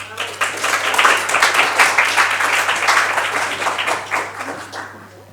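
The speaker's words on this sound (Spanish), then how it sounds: "Un aplauso, por favor." Audience applause for a nurse speaker at a cardiovascular unit conference, moderately loud clapping that builds, holds and then tapers off near the end over a faint steady hum.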